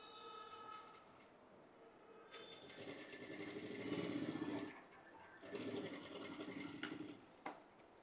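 A sewing machine stitching princess-cut piping runs in two steady whirring bursts with a fast needle rhythm, separated by a short pause. A quiet voice can be heard faintly under it.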